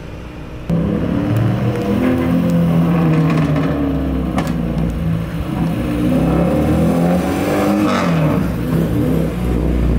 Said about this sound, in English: More cars keep pulling up.